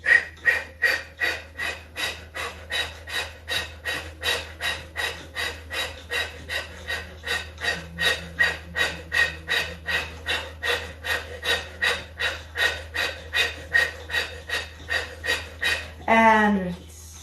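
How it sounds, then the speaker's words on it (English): Rhythmic deep breaths in a yoga class, steady and regular with about two dozen even cycles of inhale and exhale, close and fairly loud, ending in a longer rising release. "Take a deep inhale through the nose."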